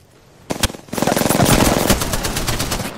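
Rapid automatic gunfire in Apex Legends: a couple of quick shots, a short pause, then a sustained loud burst of evenly spaced rounds that runs to the end.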